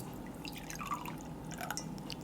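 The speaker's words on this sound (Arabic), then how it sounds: "معايا نص كوباية سكر، حط عليها ربع كوباية مية." A quarter cup of water pours onto half a cup of sugar in a pan while making caramel, giving a faint, close trickle with small dripping splashes and no talk.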